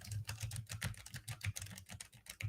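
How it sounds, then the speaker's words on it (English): Fingers type steadily on a mechanical keyboard behind a microphone, a quick run of crisp, clicky keystrokes in an uneven rhythm, fairly quiet and with no talking. "I've got a mechanical keyboard here behind the keyboard, the microphone, so I'll just start typing away."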